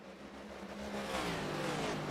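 A stock car engine roars and revs upward at a race, the pitch climbing steadily as it accelerates, loud and continuous with a broad mechanical rasp, sounding unhealthy.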